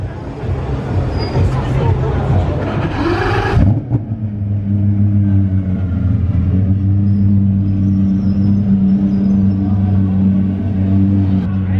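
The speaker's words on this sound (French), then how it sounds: "la voiture de course qui arrive à l'hôtel Fermont en plein gumball" A Vulcan race car pulls up at the Hotel Fairmont during the Gumball rally in Monaco, its engine roaring loudly up close amid crowd chatter before settling into a steady, throbbing rumble.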